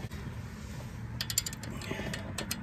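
Ratcheting clicks as a 7/16 wrench snugs an engine valve lash adjuster on a solid-lifter engine, a quick run of close, crisp clicks between about 1.2 and 2.5 seconds over a low steady background hum.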